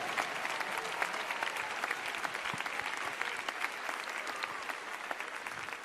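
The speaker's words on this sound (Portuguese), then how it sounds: "aplausos para Jesus" Dense, steady applause from a church congregation fills the whole stretch, loud and close, with many hands clapping at once and no break in the sound.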